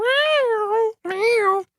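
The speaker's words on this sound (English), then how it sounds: "It's like a little robot cat begging for something." A dry synthesizer patch without reverb makes two electronic, meow-like tones, like a little robot cat. The first is a longer wavering cry and the second a shorter one after a brief gap. Both are loud and close, with nothing else behind them.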